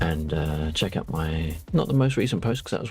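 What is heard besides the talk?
None of the usual background noises is heard.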